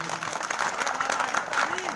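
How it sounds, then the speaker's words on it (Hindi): An audience at a comic poetry show in Seoni, Madhya Pradesh, applauds continuously, a dense patter of many hands clapping, with a voice speaking over the applause. "एक बार मन बना करके आप लोग तालियां बजा दीजिए।"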